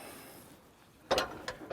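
A drawer wheel carrier swings out on the rear of a Nissan GU Patrol, a quiet mechanical rustle followed by a few sharp metallic clunks and clicks near the end.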